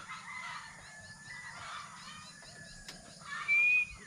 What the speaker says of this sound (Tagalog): Magkagulo ng mga manok mga kasinag.